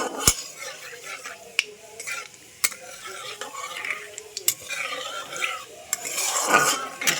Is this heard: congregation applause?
no